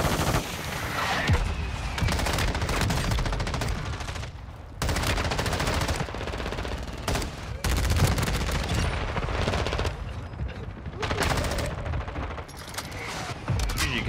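Rapid bursts of automatic gunfire from a shooter video game rattle almost continuously for the whole stretch, loud and close, with brief gaps between volleys and distant shots mixed in.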